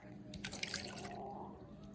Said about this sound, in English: We pour the milk.